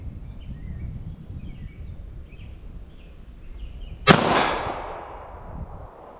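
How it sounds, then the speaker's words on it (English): A single sharp .380 pistol shot rings out loudly from an outdoor range, its report trailing off over about two seconds, aimed at a target 40 yards away; only one clear blast is evident rather than two. "So 380, let's see if I can land these 2 shots."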